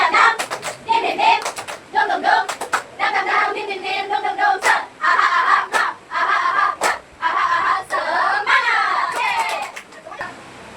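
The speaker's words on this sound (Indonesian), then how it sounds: "Oke, tepuk semangat dulu ya" A class of children doing the rhythmic spirit clap (tepuk semangat), bursts of sharp hand claps alternating with chanted young voices in a repeating pattern, close and lively.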